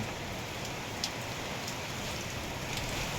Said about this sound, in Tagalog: Ang lakas ng hangin. Sa lakas ng ulan.